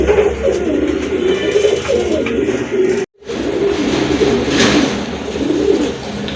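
Pigeons in a loft keep up steady, close cooing over a busy background, broken by a brief dropout partway through.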